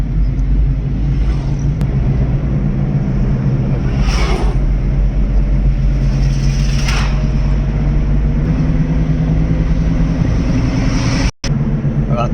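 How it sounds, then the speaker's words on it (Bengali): Steady loud road rumble of a vehicle travelling at speed on an almost empty highway near midnight, with lorries passing; a continuous low drone with occasional brief swells of passing traffic and a short dropout near the end, no talk. "গাড়ি কেমন যাচ্ছে জোর স্পিডে, লরি যাচ্ছে।"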